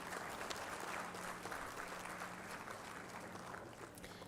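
Audience applause at an AI Fusion event in Kakinada as an honor is presented, a steady crowd of clapping hands that holds evenly and slowly tapers, with a faint low hum beneath.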